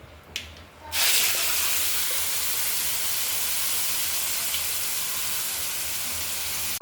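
Spices fry in a pan for karam chutney with a sudden loud, steady sizzling hiss that starts after a brief clatter and holds evenly to the end.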